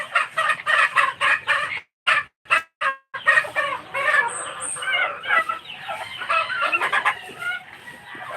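Chickens clucking busily with roosters crowing, a dense, close flock chorus with repeated calls and brief pauses, no talking.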